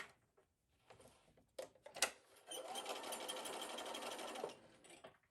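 A sewing machine runs in a steady, rapid stitching burst for about two seconds on a cross stitch bag, preceded by a few faint clicks and handling noises.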